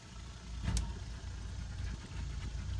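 A Sunchaser pontoon boat's outboard motor idles steadily after ignition, a low, even rumble close by with a brief sharper knock near the start and no one talking.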